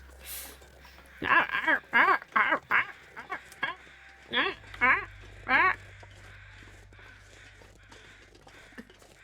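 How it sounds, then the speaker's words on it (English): A flock of crows packed into a tight space, calling loudly and close by in repeated harsh caws that come in quick clusters, then scattered calls before fading to quiet. "There's lots of crows in a tiny space."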